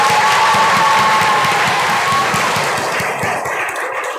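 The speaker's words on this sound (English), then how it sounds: "we will give you all a massive round of applause" An audience at a primary school prize-giving breaks into a loud, steady round of applause with some cheering for a football squad, holding strong before easing slightly near the end.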